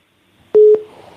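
A single loud telephone line tone sounds as a call is picked up, one short steady beep standing alone against near silence, with a faint hum trailing after it.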